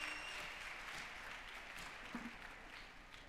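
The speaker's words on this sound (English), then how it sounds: "Clap hands for yourself," Faint, steady clapping from first-year students at a student council dialogue, a distant wash of hands heard at low level, continuous and even throughout.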